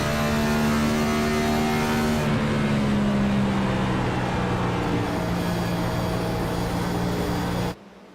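Stock race car engine at Darlington Raceway, a loud sustained roar with steady droning tones that shift slightly in pitch as the car runs, cutting off abruptly near the end.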